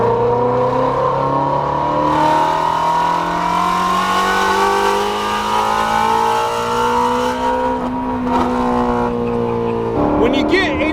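A Bugatti revs and accelerates hard up to high RPM, its engine note climbing steadily as a loud, continuous roar close by with a brief shift-like dip near the end.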